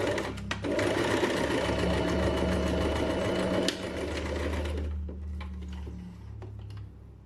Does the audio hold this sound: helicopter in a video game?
no